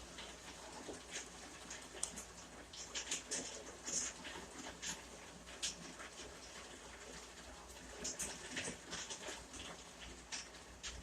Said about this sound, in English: it's really coming down. Part 2 of rainstorm on a different day.